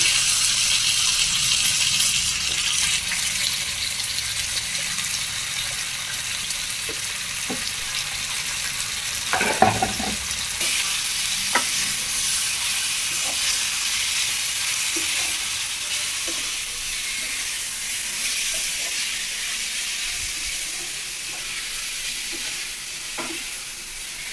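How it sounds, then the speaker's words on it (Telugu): Chicken that has been washed is frying in plenty of oil with onion pieces in a village-style chicken curry, giving a steady, loud sizzle. Stirring scrapes and brief clatters break through now and then. "వాష్ చేసి పెట్టుకున్న చికెన్ని యాడ్ చేసేసుకోవాలి"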